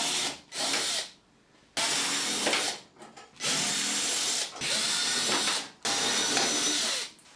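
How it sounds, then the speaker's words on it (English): A cordless drill unscrews a row of screws from the side panel of a tumble dryer, whirring in five loud bursts separated by short pauses, close up and with no talking. "We now need to remove all these screws down the side of the panel"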